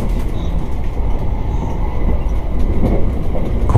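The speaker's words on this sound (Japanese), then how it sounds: "新鳥栖を出て列車は佐賀に到着します。" Interior of the White Kamome limited express train running between Shin-Tosu and Saga, with a steady, loud rumble of wheels and carriage noise throughout and no talk.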